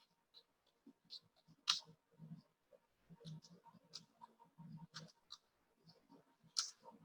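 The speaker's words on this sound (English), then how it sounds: "I'm typing digital learning platforms in my Google search engine." Typing on a computer keyboard while entering a Google search, heard as soft, irregular clicks and taps spread across the stretch, fairly quiet and close, with no talking.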